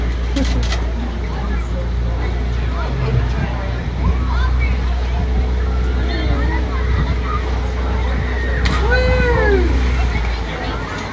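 Water sloshes and splashes against the side of a small boat on a pleasure ride, with irregular slaps and washes under a steady motor rumble while people talk and chatter nearby.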